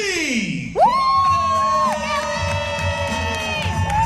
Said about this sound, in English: Please give it up for the very funny Lee.